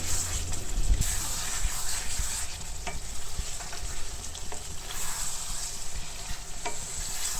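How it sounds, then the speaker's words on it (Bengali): Beef meat frying in a pan for beef tehari, with a steady close sizzle and repeated clinks and scrapes of stirring throughout, no talking. "মাংসটা আমি আরও ভাজা ভাজা করে নেবো"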